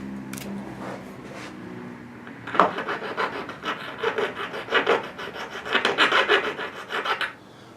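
A hand file rasps burrs off metal fence hardware, a quiet scrape at first, then a run of loud, rhythmic back-and-forth strokes close by with no talk.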